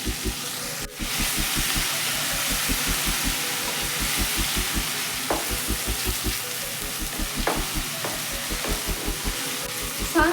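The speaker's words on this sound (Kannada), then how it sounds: "ಶುಂಠಿ ಬೆಳ್ಳುಳ್ಳಿ ಪೇಸ್ಟು ಹಸಿ ವಾಸನೆ ಹೋಗೋ ತನಕ ಫ್ರೈ ಮಾಡ್ಕೋಬೇಕು" Ginger garlic paste frying in a pan for a vegetable gravy, a loud, close, continuous sizzle with a rhythmic pulsing undertone and occasional stirring scrapes.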